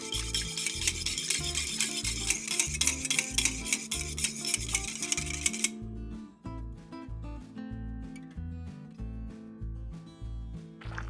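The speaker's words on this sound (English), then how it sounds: "I'm beating our just egg and lemon juice here." Egg and lemon juice are whisked until frothy for Greek artichokes à la Polita. The close, rhythmic strokes are brisk and bright at first, then grow softer and clink lightly against the bowl.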